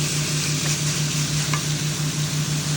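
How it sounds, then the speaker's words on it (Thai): Pork stir-frying with fried garlic in a hot pan, a continuous close hiss and sizzle with faint scraping of the spatula, and a steady low electrical hum underneath. "ไปเจียวกระเทียมก่อนให้หอมแล้วก็ เอาหมูใส่ลงไป คั่วตาม"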